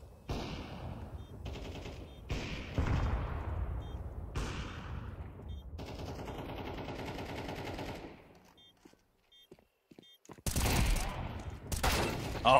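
Counter-Strike 2 gunfire, sharp bursts of rapid shots in several volleys with decaying echoes, a quieter gap, then loud shots again near the end.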